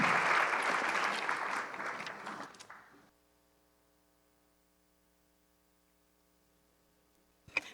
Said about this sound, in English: please, if you can join me with a round of applause for the panel members